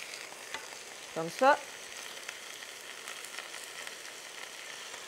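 A stew of meatballs and pig's trotters cooks in a pan with a faint, steady sizzling hiss throughout, briefly interrupted by a short spoken phrase early on.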